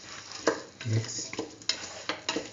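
A spoon stirs split chickpea and chayote stew with chili powder in a pot, giving a few quiet scrapes and taps over a faint bubbling background.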